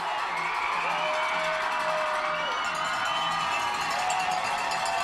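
A high school football crowd cheering and shouting during a game between Cherokee and Lenape at Lenape High School, a steady loud roar with whoops and a rhythmic clanging noisemaker running underneath.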